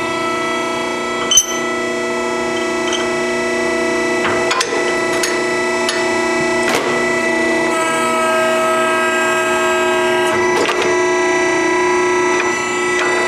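A HUTH portable swager expander reduces 16-gauge pipe with a loud, steady tonal machine drone, broken by several sharp metallic knocks and clanks.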